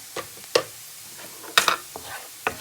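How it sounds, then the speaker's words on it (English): Ground turmeric, cayenne pepper and ginger stirred together in a pot for stinging nettle soup, giving a few brief scraping and clinking strokes with quiet gaps between them and no voices. "I stir this all up"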